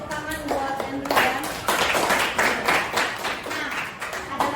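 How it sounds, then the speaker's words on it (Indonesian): Students in a classroom applaud together, a burst of scattered clapping that swells after a second and continues steadily, with some voices mixed in. "Oke, tepuk tangan buat Andrew ya"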